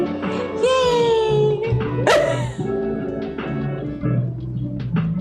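A small cartoon dog in the cozy video game Tiny Bookshop gives cute yips and little whimpering barks, several short bright calls over a soft looping background melody, with a voice briefly chatting underneath.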